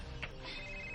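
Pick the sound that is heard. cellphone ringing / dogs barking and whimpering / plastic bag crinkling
cellphone ringing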